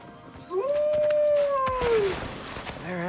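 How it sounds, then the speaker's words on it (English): A wolf in the video game God of War Ragnarok lets out a single clear, rising and sustained howl that tails off, with faint game ambience around it. "Do wolves sound like dogs? Like, how does a wolf bark?"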